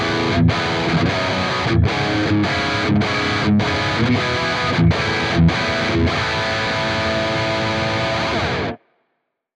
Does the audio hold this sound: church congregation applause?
no